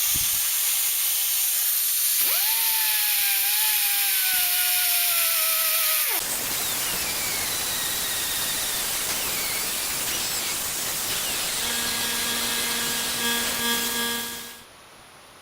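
Power tool smoothing and rounding off the edges of a plastic part for an Echo edger, a steady whining grind with changing pitch that runs loud and close throughout, then spins down at the end.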